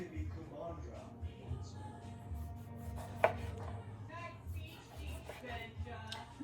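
A knife slices sweet potatoes into regular slices on a cutting board in a home kitchen, a series of soft irregular taps and cuts close by, over a low background hum with a voice talking at times.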